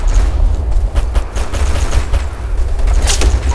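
Sustained gunfire in the combat game Operation Flashpoint: Red River, loud dense bursts of automatic and rifle fire overlapping continuously with booming rumble.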